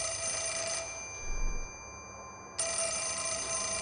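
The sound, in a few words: telephone ringing in video game Fatal Frame: Mask of the Lunar Eclipse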